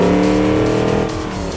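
A car in the BeamNG driving game accelerates gently, its engine revving loud and close with rising tones before easing slightly, with a hint of tire noise.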